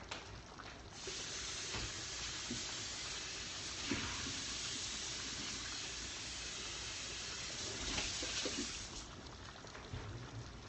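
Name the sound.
running tap water rinsing food in a sink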